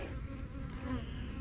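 Bees drone inside a hive during a mite check, a low, even hum that holds steady and close across the whole short stretch with no voices.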